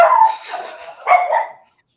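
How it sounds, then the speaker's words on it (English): A pet dog barks in two short bursts near the microphone during an online call, the second pair of barks following a brief lull before silence. "my dog likes to bark whenever I'm on a call of any kind."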